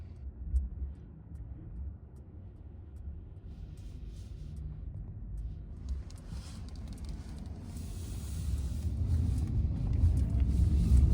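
Mercedes self-driving car running NVIDIA Alpamayo creeping forward at a crosswalk to make a right turn on red; a steady low road rumble with light hiss that builds louder toward the end, no talking.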